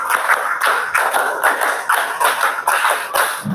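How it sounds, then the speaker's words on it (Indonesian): Schoolchildren in a classroom clap a counted rhythm together, clap five done three times: a run of sharp, loud, evenly spaced group claps close by, with no talking. "Tepuk 5 3 kali"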